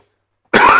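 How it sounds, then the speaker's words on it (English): A single sharp cough bursts out close by after a stretch of silence, during a Gran Turismo 7 livestream. "Like I mentioned, cough in your ear."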